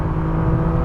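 A BMW E36 M3's engine holds a loud, steady high-rpm drone from inside the car, a dense buzzing roar above 5,000 rpm with no talk over it.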